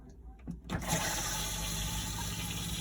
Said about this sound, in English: And to flush it, you push this button here,